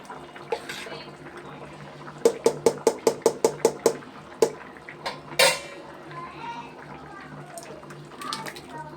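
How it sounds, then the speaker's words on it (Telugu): Raw mango pulp goes into a cooking pot with a quick series of sharp metallic taps and knocks, followed by a splashy scrape, close up and with a voice speaking around it. "మామిడికాయ గుజ్జు వేసేస్తున్నాను"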